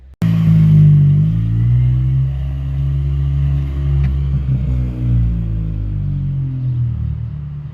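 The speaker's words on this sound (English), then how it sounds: "Rolled a video of it driving away." An Acura RSX Type S car starts up loud and close, its engine rumbling steadily with a low throaty hum as it pulls away, while the sound stays strong throughout.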